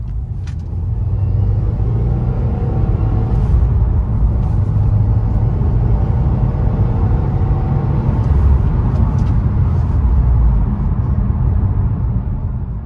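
A 2021 Subaru WRX with a turbocharged engine and 6-speed manual gearbox accelerates hard, its engine and road noise a loud, close, continuous rumble that builds steadily, with no talking over it.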